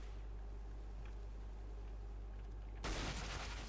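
Gunfire in a Counter-Strike: Global Offensive deathmatch, a sudden loud burst of shots near the end after a steady low background hum.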